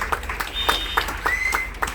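A cruise ship audience during a question-and-answer session with the cruise director gives a brief patter of applause, several soft claps spaced through two seconds with a faint whistle-like tone between.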